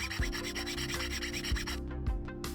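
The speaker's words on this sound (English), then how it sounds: "Excess rivets can be removed with a file." Steady, rasping strokes of a metal file grinding down excess rivet ends on a metal tube clamp, repeating in even back-and-forth passes with a few sharp accents, close and continuous with no voices.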